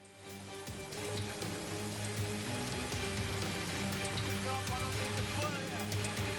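Muddy flash floodwater from an overflowing river rushes across a road in Kalirejo, Ungaran Timur, Semarang, after heavy rain, making a dense, continuous, steady roar close by.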